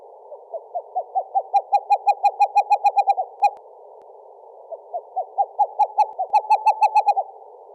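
Screech owl calling in the West Kootenays: two series of clear, flute-like whistled hoots that start spaced and quicken toward the end like a bouncing ball, loud and close against silence.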